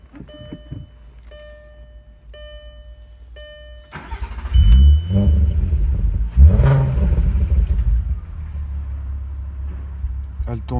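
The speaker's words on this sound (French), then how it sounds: "vous faire écouter le son du 3 litres 2 V6" Volkswagen Golf 4 R32 with its 3.2-litre V6, heard starting and then idling loudly and steadily close by, with a sharp rev burst partway through and faint chirps before it fires.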